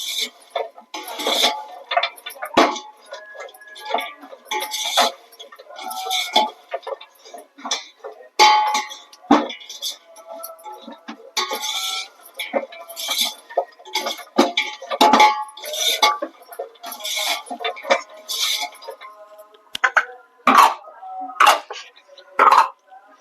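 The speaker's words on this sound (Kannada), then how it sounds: "ಕೊಬ್ಬರಿ ತುರಿ ಹಾಕೊಂತ ಇದೀನಿ. ಇದನ್ನು ಚೆನ್ನಾಗಿ ಮಿಕ್ಸ್ ಮಾಡ್ಕೊಂತೀನಿ." A spoon scraping and clinking against a pan while dry grated coconut is stirred in for vermicelli payasam, repeated light metallic taps and scrapes close by, with a person talking over them.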